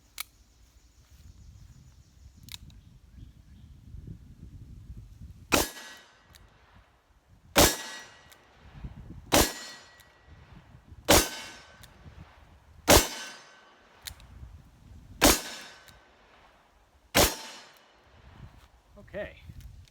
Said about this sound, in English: I think we've got enough to shoot one more cylinder.